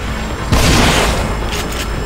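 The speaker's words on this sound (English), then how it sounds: "Find cover. They're shooting." Gunfire from the survival horror game The Evil Within, a loud booming blast after a quiet half second, followed by a sustained noisy rumble and a few fainter cracks.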